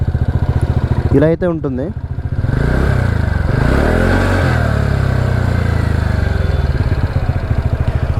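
A TVS Ntorq 125 scooter runs close by at a steady, throbbing idle with a slight rise in revs, its exhaust note continuous throughout while someone speaks briefly over it early on.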